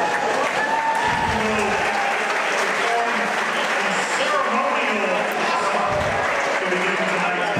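Large crowd applauding steadily inside a university gym before a wheelchair basketball game between the Pittsburgh Steelers and Edinboro, dense continuous clapping with some crowd noise throughout.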